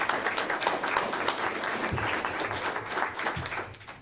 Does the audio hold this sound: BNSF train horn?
no